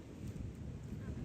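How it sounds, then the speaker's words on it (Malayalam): Evening wind at a beach buffets the microphone in a low, continuous rumble, fairly quiet and steady throughout, with no voices. "നല്ല കാറ്റുണ്ട്, വൈകുന്നേര സമയങ്ങൾ."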